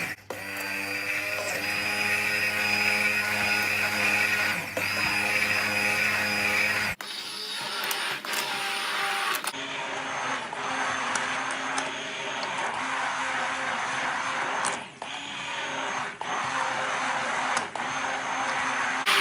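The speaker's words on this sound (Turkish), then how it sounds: "Bunu bir robottan geçireceğiz." A food processor purées a simple red lentil soup, running loud and steady for a long stretch with a whirring motor drone that shifts pitch partway through as the load changes.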